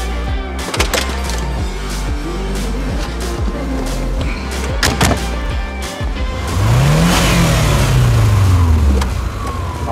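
A Volkswagen Beetle Hebmüller convertible with a 2.0 engine and automatic gearbox pulls away, its engine note rising as it accelerates, loud and close, with a few clicks and knocks first.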